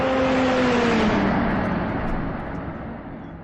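Tesla Cybertruck accelerating hard, a loud close electric whir and rushing road and wind noise with a rising then falling whine, fading slightly toward the end.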